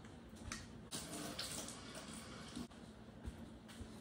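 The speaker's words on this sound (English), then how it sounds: "Okay, so I just rinsed this under the water." Tap water runs steadily over a portable personal-size blender cup as it is rinsed, a soft splashing stream with small knocks and clatters of plastic. The sound is fairly faint and there is no talking.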